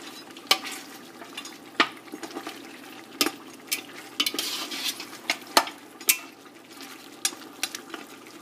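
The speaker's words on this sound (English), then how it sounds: "we want to cook this till the oil separates and the water evaporates" Nihari cooks in oil over a high flame with a soft sizzle, broken by intermittent sharp clinks and scrapes of a spoon stirring the pot every second or so.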